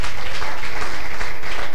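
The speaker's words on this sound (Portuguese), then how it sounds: "aplauda ao Senhor em nome de Jesus" Steady crowd applause at a church service, dense and loud, with many hands clapping continuously throughout.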